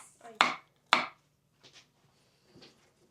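A kitchen knife finely chopping walnuts on a board for homemade ice cream: two sharp, close chops, then a few faint light taps in a quiet room.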